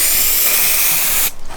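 A steady aerosol spray hisses loudly and continuously for over a second, then cuts off abruptly, leaving a brief quieter tail.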